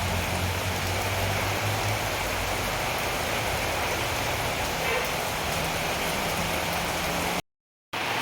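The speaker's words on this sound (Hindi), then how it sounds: "तो अभी यहाँ पे मस्त सी बारिश भी स्टार्ट हो गई है" Rain falls steadily in the Jim Corbett waterfall area as an even, dense hiss of drops, with a brief silent gap near the end.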